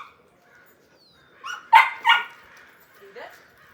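Gus, a teenage dog held on a leash during training, lets out a few short whines and yips close by, two stronger cries in the middle and a softer one near the end, with quiet gaps between.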